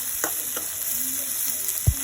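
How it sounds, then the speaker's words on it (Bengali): Onions frying in a pan for chicken pulao (morog polao), a steady close sizzle with a few brief stirring scrapes and a sharp clack near the end, no talk. "এখন আমি পেঁয়াজ ভাজতেছি।"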